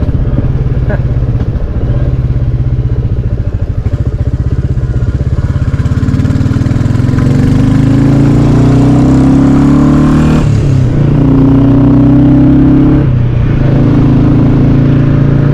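A Royal Enfield Classic 350 Reborn motorcycle engine runs loudly and steadily at close range, its rumble rising in pitch as it revs up, with brief dips between throttle bursts.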